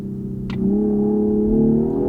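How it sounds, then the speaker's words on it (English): A 2023 Genesis G90 in sport mode accelerates at full throttle, a smooth whirring engine note swelling and rising steadily over a couple of seconds, heard from inside the cabin without talk. "I'll get into the right gear and floor it"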